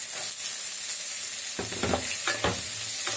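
Crushed chili, cumin and small onions fry in a pan for pori upma, a steady close sizzle broken by a few louder stirring scrapes and knocks, with no talking.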